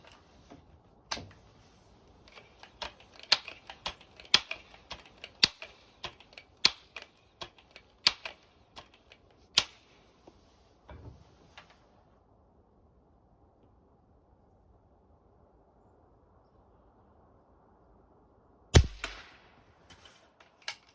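A Seneca Dragonfly .177 air rifle fires a series of sharp, clipped shots with irregular gaps, each a crisp close crack with mechanical clicks between them, then a quiet stretch and one final louder shot near the end.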